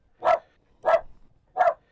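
Daisy the dog gives three sharp, close barks, evenly spaced with short silences between them and no other sound.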